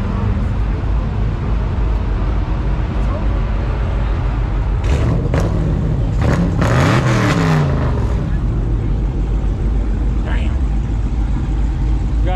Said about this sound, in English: Supercharged track car right here.